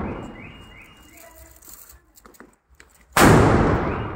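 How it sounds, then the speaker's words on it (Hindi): Large Diwali firecrackers let off with neighbours burst in one sudden loud blast near the end, its roar lingering after quieter scattered pops and background sounds. "कल के जो बड़े हुए पटाखे थे वो हमने जलाए धूम धड़ाका से अपने सारे पड़ोसियों के साथ"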